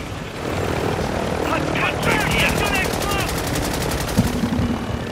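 In a video game, rapid automatic gunfire rattles at a helicopter whose rotor and engine drone runs throughout; a fast burst of shots stands out near the end while players talk over the action.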